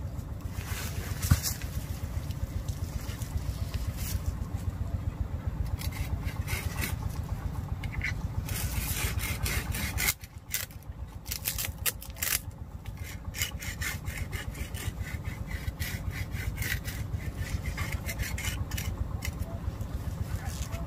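Hand saw rasping steadily through the bark of a fruit tree during girdling, a continuous near scraping rhythm with a brief pause midway before the strokes resume.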